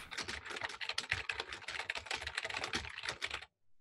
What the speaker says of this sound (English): You can hear Jacob rapid-fire typing back there.